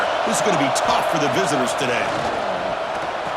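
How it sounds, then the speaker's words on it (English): Stadium crowd at an LSU versus Georgia college football game roars in a steady, dense wash of cheering that fills the whole clip, with a commentator talking over it. "this crowd is fired up. Listen to this noise here."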